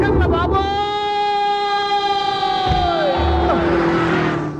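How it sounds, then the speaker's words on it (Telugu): Loud siren sounds as a sustained, steady tone, then bends downward near the end, with crowd noise and voices in the background. "సైరన్నే కొట్టాడు"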